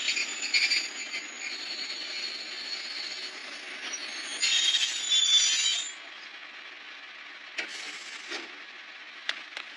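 A train pulls into a station with a steady rolling rumble and high wheel squeal that fades as it slows, followed by a few short mechanical clunks near the end.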